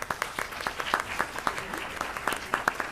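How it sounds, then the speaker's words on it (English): A modest group at a county freeholder meeting claps steadily, the individual hand claps distinct and rhythmic rather than a roaring ovation. The clapping is moderately quiet and continuous throughout. "clapping."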